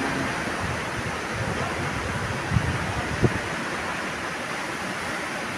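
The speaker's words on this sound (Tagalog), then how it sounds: "sobrang lakas ng hangin." Strong super typhoon wind roars in a constant broadband rush outdoors, with a couple of brief knocks or gusts standing out and no speech in the moment.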